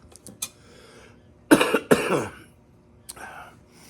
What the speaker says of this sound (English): I'm still sick with a bad cough